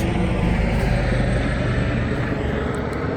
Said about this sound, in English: A helicopter comes, watch it